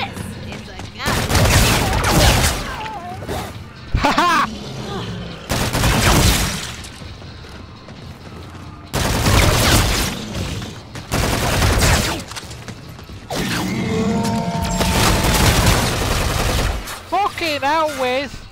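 Gunfire in a Call of Duty match: repeated loud bursts of automatic fire separated by short pauses, close and punchy, with brief voices and game effects between volleys.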